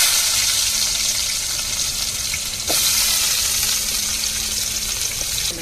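Chopped onions and mustard seeds fry in hot oil in a kadai, giving a steady, loud sizzle throughout with one soft knock partway through and no talking.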